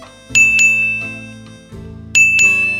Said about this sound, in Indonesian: Itu HP dari kamu bunyi terus.